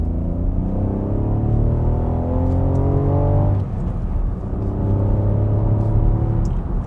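A 2020 Ford Puma ST-Line X is driven along a road. Its engine drones steadily, rising and falling in pitch as it accelerates and shifts gear, over a constant rumble of road and tyre noise heard from inside the cabin, with no talking.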